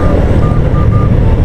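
Heavy street traffic in Malagasang, Imus, Cavite: a loud, close rumble of engines with a truck's reversing beeps repeating over the steady traffic din.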